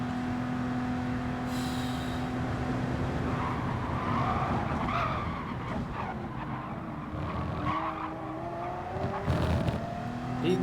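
A race car engine in Gran Turismo Sport revs hard at Le Mans, a sustained rising and falling whine with tire squeal and skidding, loud and continuous, with no voices.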